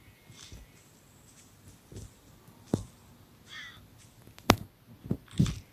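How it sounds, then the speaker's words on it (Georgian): Crows caw in a zombie survival video game, several brief calls scattered across a quiet background, with a few louder sharp hits toward the end. "ჩიტები."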